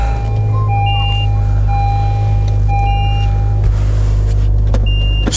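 A Japanese sports car engine idles with a steady low rumble, joined by a few short electronic beeps.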